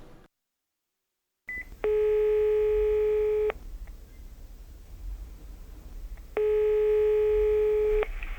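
A telephone call is placed: a brief dial tap, then two long ringback tones separated by a pause, each a loud steady buzz, heard clearly with no talking.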